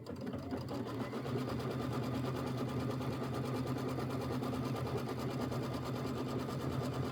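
An embroidery sewing machine stitches a quilting stitch on a Christmas quilt wall hanging, its needle hammering in a fast, even mechanical rhythm, loud and close, running unbroken with no talk.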